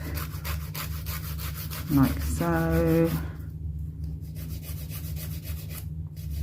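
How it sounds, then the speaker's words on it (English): Rapid rhythmic rubbing of a hand file shaping gel nails scratches back and forth close up, with a short tonal squeak in the middle and a brief spoken remark. "I'm then just going to use my hand file to shape"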